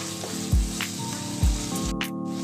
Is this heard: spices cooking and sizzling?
yes